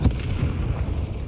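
A Confringo fire spell blast in the Hogwarts Legacy video game lands as a single sharp explosive boom at the start, followed by a low rumbling decay.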